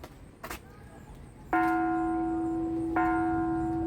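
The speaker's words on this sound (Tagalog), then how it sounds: "Ito, mayroong siyang bell." A bell in the Japanese garden of the Montreal Botanical Garden is struck twice, about a second and a half apart, each stroke ringing out clear and sustained over faint outdoor ambience.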